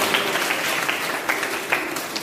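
An audience at a community awareness programme held in a Buddhist vihara claps in a burst of applause that fills the whole stretch, dense and fairly loud, with no distinct voices.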